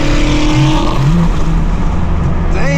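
Loud, continuous exhaust roar from a straight-piped BMW M4 F82, heard close and steady throughout, with a rising engine tone near the end.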